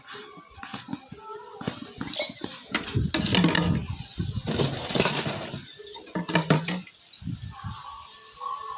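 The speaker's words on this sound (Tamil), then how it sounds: "தண்ணி ஊற்றி நல்லா கலக்கிக்குவோம்" Water splashes and pours into a container while mixing ingredients for sardine fish curry, amid clattering and stirring, with bursts of running liquid rising and falling over several seconds.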